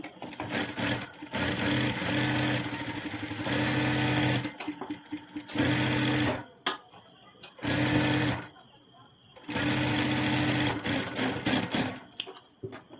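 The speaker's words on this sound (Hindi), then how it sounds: "अब इसको ऐसे पलट के इस अस्तर के ऊपर ही हमको टॉप सिलाई लगाना है।" A sewing machine top-stitches a blouse lining in several loud, steady bursts of rapid stitching separated by short pauses, close up.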